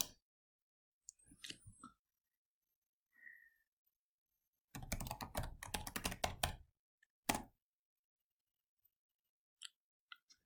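Keys clatter on a computer keyboard as a password is typed, in a short burst of a few taps, then a dense run of rapid keystrokes, then a few isolated presses, close and fairly quiet with no talking.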